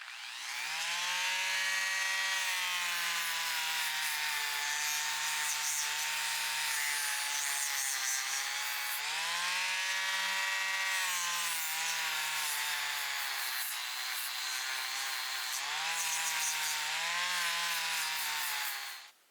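Vintage Boker short chain needle nose pliers are sanded with a 240 grit disc, giving a loud, continuous high-pitched grinding whine whose pitch dips and rises with the pressure, alone and nearly unbroken until it cuts off at the end.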